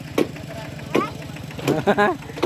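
A farm tractor engine runs with a steady low chugging idle where crowds queue to draw water on a hot April day, while voices shout and talk over it.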